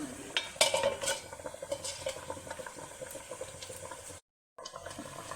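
A bowl set into boiling water in a wok and covered gives clinking and scraping of metal and crockery over a bubbling, simmering hiss, then a short silence before the hiss resumes.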